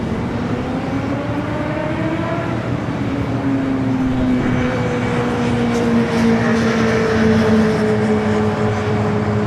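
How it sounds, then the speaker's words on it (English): An EVA Air Boeing 777-300ER taxiing along a taxiway at LAX gives off a loud, steady jet engine roar with a shifting whine, heard from close by throughout. "The Eva 777-300ER continuing its taxi down Bravo."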